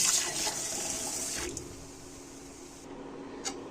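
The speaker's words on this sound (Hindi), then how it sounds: "चावल मैंने साफ़ कर लिए हैं, इसमें कुछ नहीं था, तो अब मैं इनको धो लूँगी अच्छे से।" Rice being washed in water for Kashmiri tahri, a steady running-water wash and swishing for a couple of seconds, easing to a quieter trickle with a small splash at the end. No one speaks.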